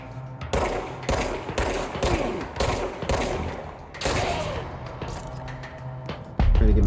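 Gunfire in the video game Control comes as loud, rapid bursts of shots in a quick repeating rhythm, ending with a heavier thud.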